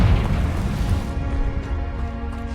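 A fiery spell explosion in the Hogwarts Legacy video game bursts with a loud, deep boom that rumbles and fades over a couple of seconds.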